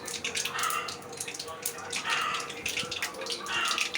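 Mustard seeds crackle and splutter in hot oil in a cooking pan, making a continuous busy crackle with brighter bursts at steady volume close by.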